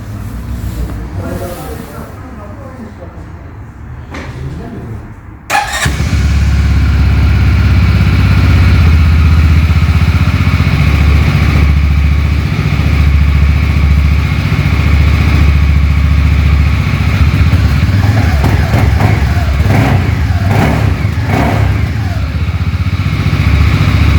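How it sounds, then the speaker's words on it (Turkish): A few quiet clicks and shuffles, then a CFMoto CForce 625 Touring ATV engine starts abruptly and settles into a loud, steady rumbling idle close by. "Bir de isterseniz bir motor çalıştıralım, bir sesini duyalım bakalım nedir ne değildir."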